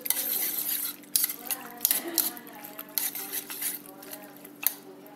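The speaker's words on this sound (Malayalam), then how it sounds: "ഇനി നല്ല പോലെ ഒന്ന് ബീറ്റ് ചെയ്യാം." Cooked macaroni being beaten into a beaten egg mixture in a bowl, with repeated clinking scrapes of a utensil against the dish and soft wet stirring, close and fairly loud.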